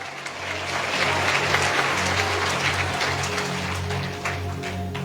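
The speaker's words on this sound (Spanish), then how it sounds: "Fuerte aplauso, aleluya." A church congregation claps loudly and steadily throughout, a dense wash of applause with a faint sustained musical tone running underneath.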